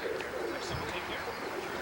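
Pigeons coo softly in a backyard loft, low murmuring calls blending into a steady faint outdoor wash, with quiet chirps from other birds now and then.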